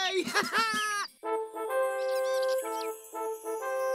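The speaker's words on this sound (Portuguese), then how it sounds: "quando cantou o primeiro galo do reino" A rooster crows in an animated Portuguese children's story about a chimney sweep and the king's palace. A short, bright cock-a-doodle-doo starts the clip, then a tinkling, chime-like melody plays.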